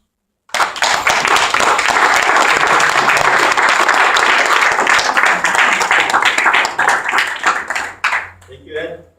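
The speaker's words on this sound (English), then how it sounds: "let's greet and give a warm applause to our District Governor-elect, Dwight Ramos" Loud, sustained applause from an audience at an anniversary event welcoming a district governor-elect, dense clapping that runs unbroken for about seven seconds before tapering off, with a voice starting near the end.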